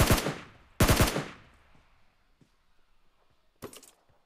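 Video game gunfire comes in two loud rapid bursts near the start, then a quiet stretch with faint clicks, and a shorter burst near the end.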